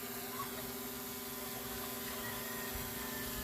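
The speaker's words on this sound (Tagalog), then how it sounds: "Pabalik na yung drone natin." A drone flies back overhead at dusk, its steady motor whine holding constant and moderately loud throughout the short stretch, with no talk.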